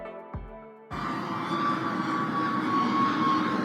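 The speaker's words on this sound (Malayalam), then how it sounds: "ഇതേ പോകുന്നൊരു ഫ്ലൈറ്റ് അല്ലേ?" Airplane flying overhead, heard as a broad roar that begins abruptly after a brief thud and then holds steady and loud, with no voices.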